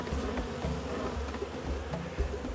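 Honeybees buzz densely around the entrance of a nuc hive during an upgrade, a continuous droning hum of many wings with individual bees zipping close past, heard alone without talk.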